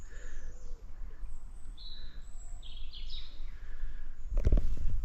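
Wild birds sing softly at a distance by Rutland Water, with scattered chirps and short whistled phrases over a steady outdoor hush, then a brief close rustle near the end.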